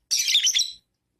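Lovebirds let out a short, loud burst of shrill chirps and squawks in the morning, close by and lasting under a second before falling silent.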